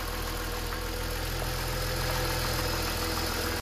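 BMW petrol engine, E60/E39/E46/F10 type, idling with the oil filler cap open and starting to misfire, a steady close rumble with a faint uneven pulse, cutting off abruptly at the end.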